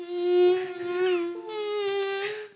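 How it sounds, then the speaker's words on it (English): A mosquito whines in a thin, steady buzz that rises and dips in pitch, heard in two close passes with a brief break between them and no talk. "Damn mosquitoes."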